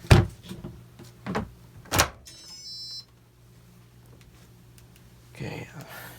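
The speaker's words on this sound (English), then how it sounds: "I'll open the door and see how it comes out on the clothes" A washing machine door is opened after a spin cycle, with a few sharp clicks and thumps of the latch and door, a short electronic beep, then quiet before soft rustling of clothes.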